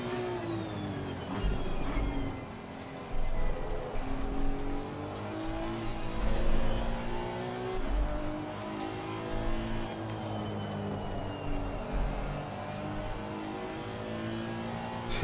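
Engine of a Honda NSX Evo racing at Barcelona, with another car approaching: a steady, sustained engine drone that rises and falls as gears change and revs climb, with occasional shifting thumps. No voices.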